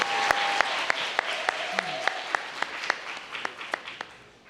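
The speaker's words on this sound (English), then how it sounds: "please give them a round of applause right now" An audience at an annual arts awards ceremony applauds steadily, with a wash of clapping punctuated by sharp, regular single claps close to the microphone, fading slightly toward the end.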